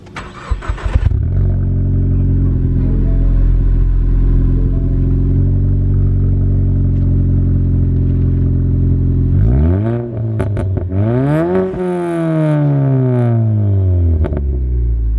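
A Ford Mustang EcoBoost with over 400 hp cranks and fires up, settles into a steady deep idle, then is revved hard in a few sharp rising and falling bursts, close and loud.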